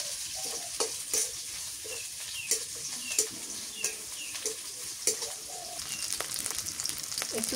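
Green chillies dropped into frying onions on a clay stove in a rural outdoor kitchen, a continuous sizzle with small crackles and scrapes, faint bird calls in the background, no talking.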